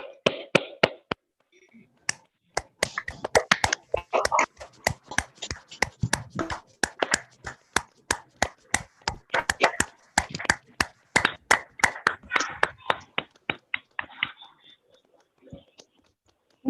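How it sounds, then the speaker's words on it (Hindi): A small group at a talk on feminine energy claps in scattered bursts, with sharp separate claps that come in uneven clusters and die away toward the end, and a voice speaking between them. "तो आप सबके लिए क्लैपिंग करेंगे बहुत जोरदार से।"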